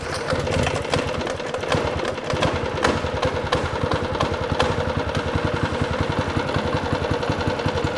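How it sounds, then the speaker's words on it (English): A small Toro dual-direction tiller engine idles steadily and close by, a continuous rapid chugging putter with faint knocking, running alone without any talk. "This thing is pretty quiet when it's idling"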